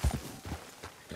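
Horse hooves clip-clop in Red Dead Redemption 2, three soft, muffled thuds spaced evenly in a brief, quiet moment.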